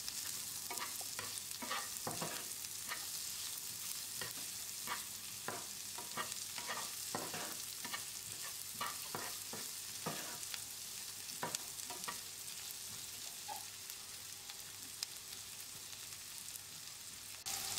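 Onions sautéing in a pan, a soft continuous sizzle broken by regular scraping stirs, heavier in the first half and steadier later, fairly quiet and without talk.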